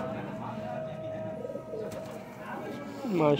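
Pigeons coo in short rounded calls among a loft of birds kept for pairing and flight, with a louder close coo near the end over a steady low background murmur.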